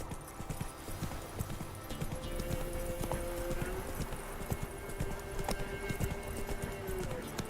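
Roach, Geralt's horse in The Witcher 3, gallops with a rapid, steady clip-clop of hooves at close range, with a brief whinny-like tone partway through.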